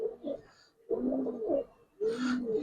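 Giribaz silver pigeons coo in soft, repeated throaty phrases at close range, three bursts separated by short pauses.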